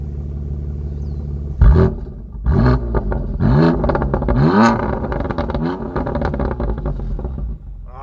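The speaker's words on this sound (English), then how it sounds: "Let's have Lauren do some rev time for us" A 2020 BMW M2 Competition sits parked while its engine is revved: a sharp blip, then several rising and falling revs with exhaust rumble and crackle over a steady idle, loud and close.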